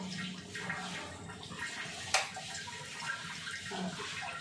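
Quiet bubbling and hissing of liquid simmering in a pan, with soft gurgles and one brief sharp crackle, fairly faint and close.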